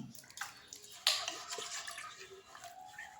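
Water splashes and trickles quietly as a black Palakkad clay pot is scrubbed and rinsed, with uneven sloshing and a few sharper knocks.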